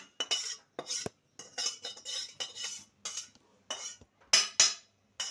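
Roasted semolina being scooped out of a pan with a metal spoon, a series of close scraping and clinking strokes separated by short pauses, with no talking.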